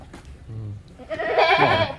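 A goat being checked as a sacrificial animal bleats loudly and close up in the second half, after a stretch of quieter low sounds and possible voices nearby.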